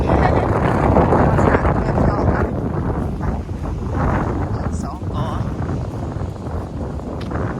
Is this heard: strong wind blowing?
yes